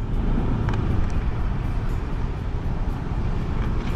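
Car traffic arriving at the Sofitel Philippine Plaza Hotel in Manila, a continuous loud rumble of engines and tyres nearby with no distinct pauses.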